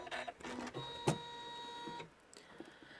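An embroidery machine stitching an in-the-hoop notebook cover gives a short mechanical whir with a sharp clack near the middle, then a softer motor hum as it pauses.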